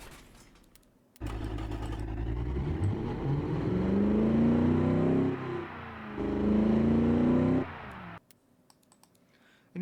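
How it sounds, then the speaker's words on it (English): A V8 engine in a 1950s-style sports car in BeamNG.drive revs up in two sustained, rising pulls, loud and close, and then cuts off abruptly. "it is a V8, so it's definitely got its own sound"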